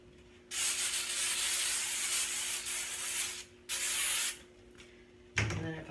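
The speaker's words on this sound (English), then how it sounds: "Just spray that again." Hairspray hissing from an aerosol can onto hair during a styling demo, three long close bursts separated by brief pauses, followed by a short rustle at the end.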